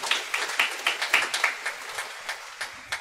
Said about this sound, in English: Can we give them a special round of applause?